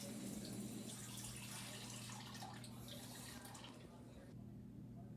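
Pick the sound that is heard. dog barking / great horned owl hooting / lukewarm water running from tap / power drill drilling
lukewarm water running from tap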